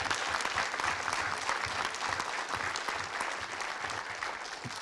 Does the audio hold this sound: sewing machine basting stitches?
no